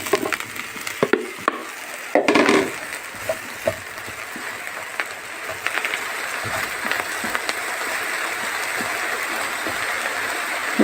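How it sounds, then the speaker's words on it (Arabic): Eggplant goes into hot oil and is stirred, giving a steady, moderately loud sizzle with a few woody knocks and scrapes from the stirring near the start. "هستنى ثواني بس كده انه الزيت يسخن معايا، وهنزل بالبتنجان واقلب"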